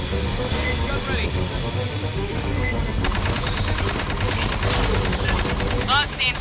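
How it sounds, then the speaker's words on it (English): Rapid automatic gunfire from a sci-fi shooter game, Aliens: Fireteam Elite, loud and dense with bursts starting about halfway through, mixed with game music and effects. "Gunfire must have drawn them."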